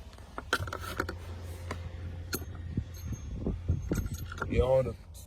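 A bolt comes out of an inverted car panel with metallic clicks, rattles and the quick ratchet of a tool, close and fairly quiet, ending in a short whirring spin.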